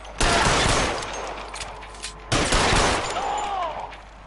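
Gunfire in the LA Noire video game: two loud bursts of rapid shots, each decaying into a reverberant tail, with a short whistling tone near the end.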